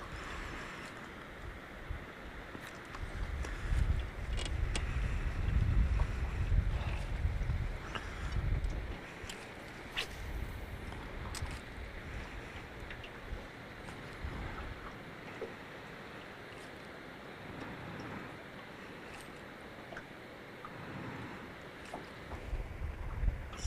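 Low engine rumble of a fishing boat motor swells and then eases off as the boat slows, with wind buffeting and water sounds throughout.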